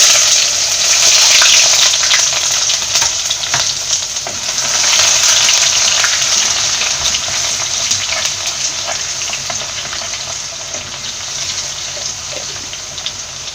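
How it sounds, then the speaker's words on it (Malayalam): Chopped garlic and ginger frying in oil in a pan for a Kerala-style mackerel fish curry, a loud, steady, close sizzle running without a break and swelling slightly at moments. "ഇനി അരിഞ്ഞു വെച്ചിരിക്കുന്ന വെളുത്തുള്ളി ഇഞ്ചിയും ചേർത്ത് കൊടുക്കുക."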